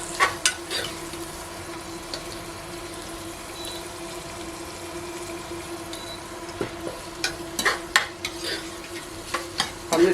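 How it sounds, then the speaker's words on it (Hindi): Onions frying in hot oil in a pan, giving a steady sizzle with intermittent scraping clicks from stirring that grow busier toward the end. "आफ्टर दैट हम इसके अंदर प्याज डालेंगे"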